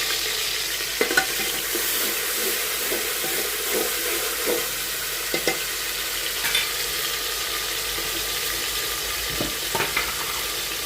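Onions and dried chillies sizzle and crackle steadily in hot oil for khichdi, with occasional scraping stirs and small clinks throughout.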